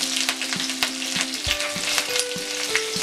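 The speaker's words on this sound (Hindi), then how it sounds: "अब हम उसी तेल में राई डालेंगे। राई फूटने के बाद हरी मिर्च डालेंगे" Mustard seeds spluttering and popping in hot oil for kanda poha, a dense crackling sizzle with sharp pops scattered throughout, close and fairly loud with no voices.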